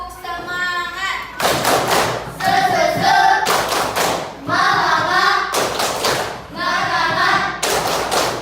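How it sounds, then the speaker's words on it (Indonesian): A school class performs a rhythmic clapping cheer, sharp group claps in bursts alternating with children's chanted voices, loud and close. "Kita tepuk semangat lagi ya."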